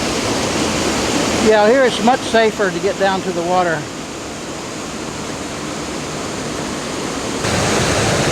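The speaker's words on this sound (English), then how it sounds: "And there's some more waterfalls." Brook waterfalls at True's Ledges near West Lebanon, New Hampshire, pour as a steady broadband rush that fills the whole clip, with someone speaking briefly over it near the start.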